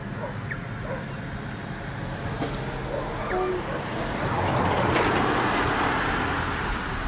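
A rumbling old car approaches and passes, its noisy engine growing louder toward the end over faint background sounds.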